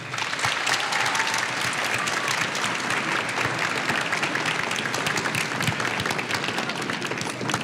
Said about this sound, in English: Graduates, how about a round of applause for your parents, family, and friends